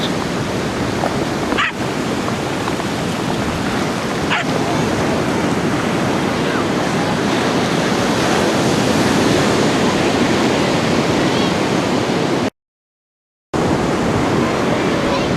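Breakers surge onto a North Cornwall beach as the tide comes in, a loud, continuous roar of surf close by with no pause except one brief dropout near the end.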